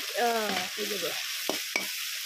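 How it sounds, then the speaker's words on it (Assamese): Masala with ginger, garlic and cumin sizzles faintly in a pan, broken by two sharp stirring clicks and a brief tonal squeak near the start. "মছলাখিনি ভাজি লৈছোঁ"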